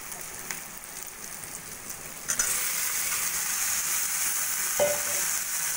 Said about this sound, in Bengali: এঁচড়টাও ভালো করে মশলার সঙ্গে কষিয়ে নেব